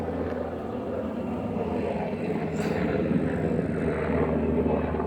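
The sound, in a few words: helicopter flying overhead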